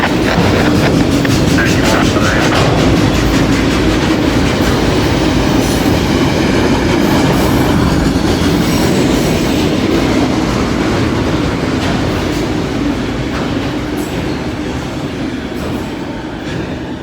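Freight train rolling past with empty railcars in Midland, Ohio, a loud, close, continuous rumble with rattling clatter and faint wheel squeal, holding steady throughout.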